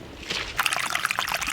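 Water from a busted irrigation line splashes and trickles as it pools in a garden bed, a close, continuous sloshing and dribbling sound.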